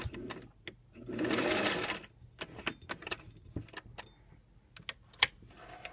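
A sewing machine stitches down the last side of a welt pocket in a long, steady whir, set among short bursts of machine stitching and small handling clicks.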